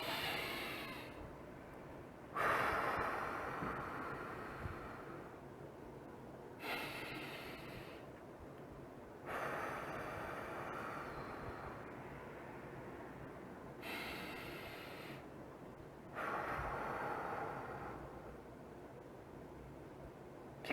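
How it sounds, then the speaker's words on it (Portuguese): Slow, deep breaths in a breathing exercise, about five long airy inhale-exhale cycles spaced a few seconds apart, close and fairly quiet with no talking. "Respirar 3 vezes e foca e concentra na sua respiração."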